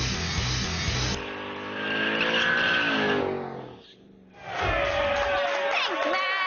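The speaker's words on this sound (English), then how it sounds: "Shelby has turned the sports car world on its ears with the most powerful factory Mustang ever." A 50th-anniversary Shelby Mustang, the most powerful factory Mustang, roars past with loud screeching tire squeals that fade briefly around the middle, then return with another long skid and engine howl.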